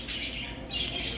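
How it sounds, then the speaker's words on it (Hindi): A brief burst of bird chirps and squawks over a steady outdoor hiss, the birds sounding moderately close, in Sanjay Van Vatika park, Ambikapur. "चिड़ियों का कलरव, मधुर ध्वनि आपके कान में मिश्री घोल देगी"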